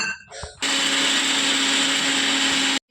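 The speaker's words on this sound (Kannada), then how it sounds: "ಡ್ರೈ ಇರಬೇಕು ಮಿಕ್ಸಿ ಜಾರು ಸೊ ಎಲ್ಲವನ್ನು ಹಾಕಿ ಪುಡಿ ಮಾಡಿಕೊಡೋಣ" An electric mixer grinder powders roasted dates, coconut and cardamom in a dry jar, starting with a brief clatter and then whirring at a loud, steady pitch for about two seconds before cutting off abruptly.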